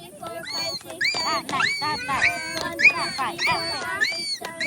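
A person imitates a dog yelping and whimpering after being hit, with rising and falling cries in quick bursts, surrounded by other voices talking and laughing outdoors by a riverbank.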